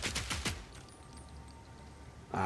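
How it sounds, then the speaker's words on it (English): Mercenary firing permafrost bolts in Path of Exile 2, a quick burst of several sharp crossbow-like shots up front, then a quieter icy hiss before another loud impact at the end. "Now I'm shooting permafrost bolts."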